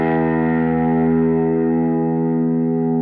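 A single sustained note on a Kiesel Osiris electric guitar rings out, its pitch gradually bending upward, then slowly decays; played alone.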